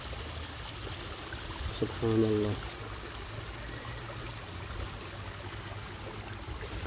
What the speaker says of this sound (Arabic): مي جاري